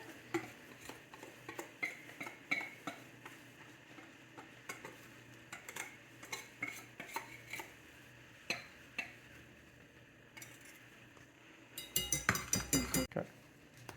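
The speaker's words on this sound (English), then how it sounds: "we're mixing chocolate into that egg mixture" Utensil stirring chocolate into an egg mixture in a bowl at home, for a chocolate lava cake: soft scraping and clinking strokes in an irregular rhythm, close by, with a burst of quicker, brighter clinks near the end.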